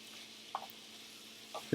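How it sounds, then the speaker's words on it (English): Cubed, seasoned pork sizzles quietly in a skillet, giving a steady soft hiss broken by a few brief clinks or scrapes of stirring. "now we're just going to brown it up in the skillet."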